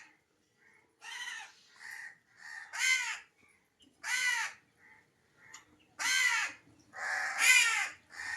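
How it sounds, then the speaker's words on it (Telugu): Several crows caw in repeated harsh bursts while eating food set on a wall, the calls loud and close with short quiet gaps between them. "సులక్షం కాకులు వస్తున్నాయి కదండి, పెట్టి పట్టుకెళ్ళి అయ్యో ఎలా బతుకుతాయి కాకులు."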